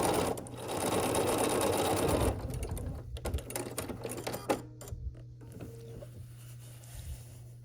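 A sewing machine runs steadily for a couple of seconds stitching a long seam on a scrappy sampler quilt block, then slows into shorter, uneven bursts and light mechanical clicks as the seam finishes, close and without talk.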